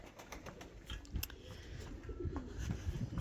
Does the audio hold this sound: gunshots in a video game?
no